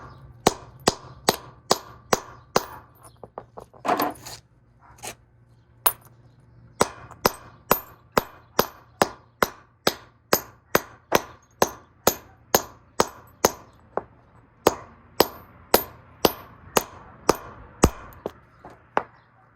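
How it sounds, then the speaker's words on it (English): A wheel lock being hammered into a removal socket: a long run of sharp metallic strikes at a steady, roughly even pace, loud and close, with no talk. "you just hammer it in"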